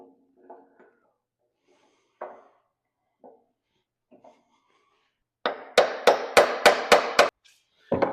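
A pump is tapped into an engine crankcase during assembly. Quiet scattered taps come first, then a close, sharp run of about six hammer blows at an even pace, with one more after a short pause.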